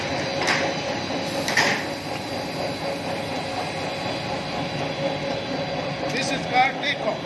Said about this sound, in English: The machine is running continuously.